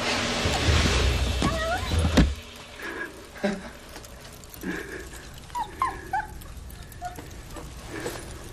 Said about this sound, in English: Dibs on the puppy.